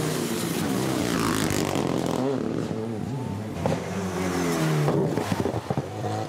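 A rally car at the Critérium des Cévennes roars hard, with revs rising and falling through gear changes and braking, loud and close, then shifts in pitch as it passes.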